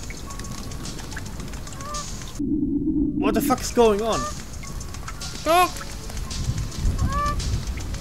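A bird in the survival video game The Forest gives several honking, goose-like calls spread across the moment, with someone talking nearby.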